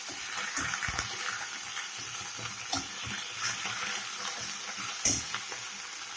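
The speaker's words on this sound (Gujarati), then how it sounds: "લસણ અને આદુની પેસ્ટ થોડી એને શેકીશું" Garlic and ginger paste sizzles steadily in a hot pan for a sauce-style sev tomato curry, with a dense, even hiss, a few soft scrapes of stirring and a brief sharper clatter near the end, all without talk.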